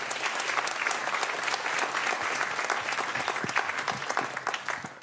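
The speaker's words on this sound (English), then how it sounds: "let's give them all a very big round of applause for this moment." Sustained applause from an audience at a press conference as twelve women's sailing teams stand on stage, dense and steady clapping filling the whole stretch without a break.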